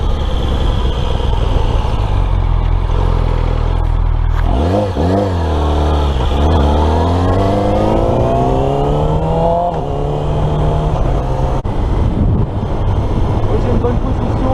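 Yamaha R6 sport motorcycle engine, loud and close, idling and then revving through several sharp rising and falling sweeps to high pitch before settling back, with wind noise on the microphone.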